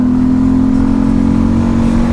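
A Honda XRE 300 motorcycle carrying a passenger accelerates hard, its engine holding a loud, close, steady droning hum with no speech.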